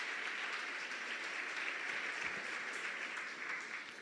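Applause from a church congregation fills the room, a dense, even wash of many hands clapping steadily for several seconds, fairly distant and without voices on top.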